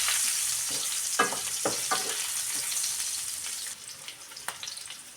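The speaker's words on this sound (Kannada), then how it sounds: "ಇವಾಗ ಈರುಳ್ಳಿ ಫ್ರೈ ಮಾಡ್ಕೊಳ್ಬೇಕು" Steady hiss of onion frying in hot oil, with a few scraping stirs of a spatula against the pan; no voices.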